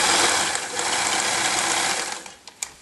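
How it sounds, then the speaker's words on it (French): A sewing machine overlocks the edges of a jacket's shoulder seams, running in a steady, close whir that fades near the end into a few sharp mechanical clicks. "d'abord, on surfile les quatre coutures parce que la couture sera ouverte."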